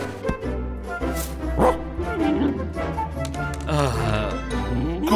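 A dog barking and yipping in a short run of excited high calls with a whimpering tone, amid cartoon-like sounds and background noise.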